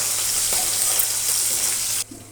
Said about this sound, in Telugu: ప్యాన్ పెట్టి 2 స్పూన్స్ ఆయిల్ వేసుకున్నాక ఈ పోపు వేసేసుకోవాలన్నమాట.